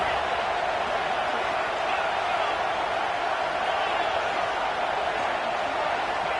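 Steady, dense stadium crowd roar from EA Sports College Football 26, a loud continuous wash of cheering that holds level throughout during a late fourth-down play in Auburn vs Baylor.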